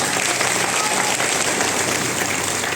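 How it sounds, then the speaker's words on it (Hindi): A large audience at a business event in Nagpur gives the speaker a loud, continuous round of applause, a dense rain-like roar of many hands clapping at once without a break. "सर के लिए जोरदार ताली हो जाएगी"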